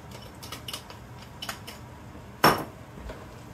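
Bacon and shrimp mixed in a pan for carbonara, light scraping and clinking of a utensil against the pan, then one sharp metallic clank, all fairly quiet with no talk.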